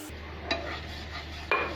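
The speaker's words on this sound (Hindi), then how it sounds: "इसको थोड़ा तिड़कने देंगे जीरे को।" Cumin seeds in hot mustard oil crackling softly in a pan, a faint steady sizzle with a couple of small sharp pops, close by and without talk.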